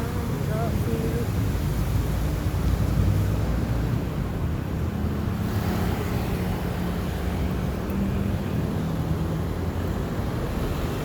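Heavy congested road traffic in the Philippines, a loud continuous low engine rumble and drone from many vehicles at close to moderate range, with a person talking over it.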